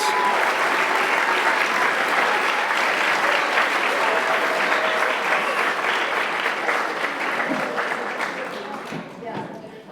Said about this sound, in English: One more round of applause for the Case Western Reserve University PA program class of 2028.